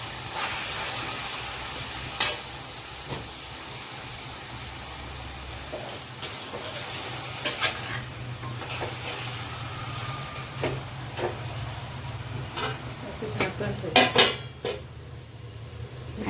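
Ingredients fried in oil and stirred in a pan for Kolhapuri white rassa, a steady low sizzle with scattered sharp clinks and scrapes of a spoon against the vessel, a cluster of louder knocks near the end.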